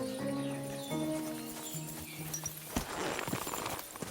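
Horse hooves clip-clop at a steady walking pace in the medieval game Kingdom Come: Deliverance II, fairly close, with a soft melodic tone early on and rougher ambient noise later.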